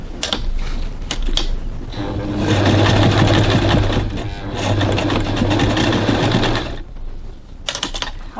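A sewing machine stitches a bag strap up close, its rapid mechanical whir running for several seconds in a steady burst. Shorter clicks and handling noises come before and after it.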